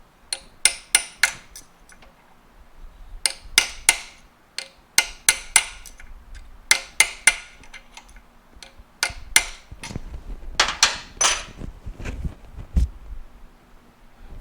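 Sharp metallic hammer taps bend over a lock washer on a Yamaha AT-2 motocross bike during a build, striking in quick clusters of three to five blows separated by short pauses, close and clear with no talking.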